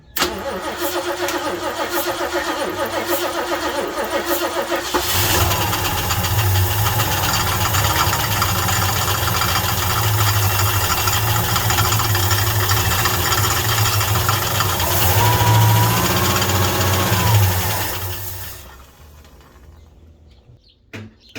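A 1973 Mercury Cougar XR7 engine that had sat for 20 years cranks over with a rapid starter churn, then catches and settles into a loud, rough, steady idle before cutting off near the end, with no speech.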